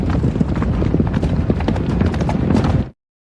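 Several horses walk close by, their hooves clip-clopping in a dense, irregular patter for about three seconds before cutting off abruptly.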